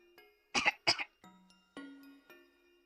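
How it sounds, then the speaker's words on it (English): Two sharp, close coughs in quick succession, each with a breathy rasp, followed by softer throat sounds and faint tonal background music. "Can you hear me now? Please cough."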